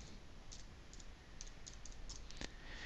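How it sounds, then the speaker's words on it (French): Sparse, quiet computer mouse clicks on a Windows 7 PC, coming singly and in small pairs against a near-silent background, with one sharper click near the end. "On clique dans le blanc pour valider"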